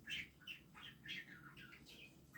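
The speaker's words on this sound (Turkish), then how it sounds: "Aa bakın kuş var arkadaşlar yukarıda." Quick high chirps repeat in short bursts over a low background rumble, fairly faint and seemingly from some distance above.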